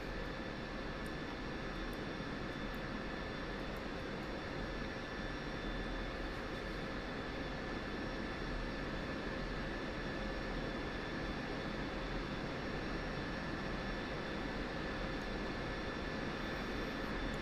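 Steady, unbroken jet engine roar from an F-16C Viper in the DCS flight simulator, a dense loud hiss and whine with a constant high tone, running evenly throughout with no voices.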